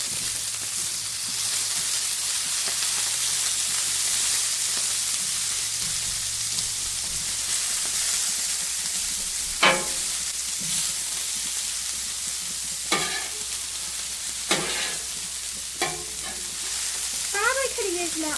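Onions fry in a pan with a steady, loud sizzle and hiss throughout, broken by a few faint clinks of a utensil; nobody speaks.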